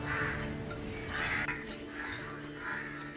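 Crows cawing repeatedly outdoors, several harsh calls recurring in a loose rhythm at moderate distance, with steady background ambience and no talk.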